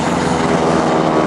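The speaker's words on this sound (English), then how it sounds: "The rumble of that engine that you hear is a round or radial engine" Deep, steady rumble of a radial engine on a propeller aircraft at an air show, loud and continuous, with a broad roaring drone and no voices.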